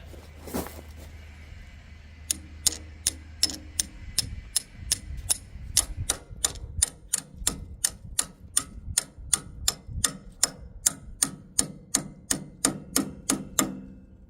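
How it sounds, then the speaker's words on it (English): A hammer taps the end of a grease fitting cleaning tool on a clogged grease zerk in a steady, evenly spaced series of sharp, ringing strikes, about two per second, close by. "we'll give it some hits with a hammer on this end"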